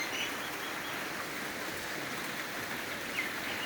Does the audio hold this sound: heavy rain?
yes